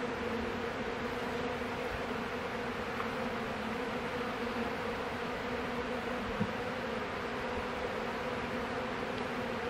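Honeybees in an open hive hum in a steady, continuous drone at low level, a dense buzzing swarm with no voices over it.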